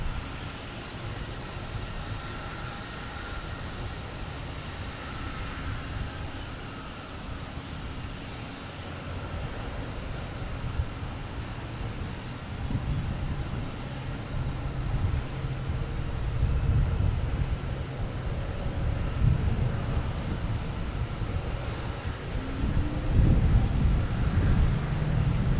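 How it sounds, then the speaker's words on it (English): A Delta Airbus A321neo lands on runway 22 left at Boston Logan. A steady, broadband jet roar with wind buffeting swells gradually and peaks loudest near the end, with no talking. "have a Delta coming in, an A321neo from San Francisco, landing on 22 right"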